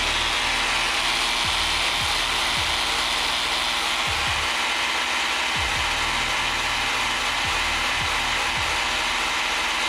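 A ratchet wrench backs a nut off a bolt during brake caliper work on a 4-rotor RX-7, its rapid pawl clicking repeating in bursts over a steady hum of shop noise.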